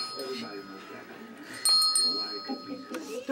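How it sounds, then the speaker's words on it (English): A small bell is rung by a baby, giving a couple of bright ringing strikes near the mic, with soft adult talk and baby noises underneath. "Let's see if she can ring the bell."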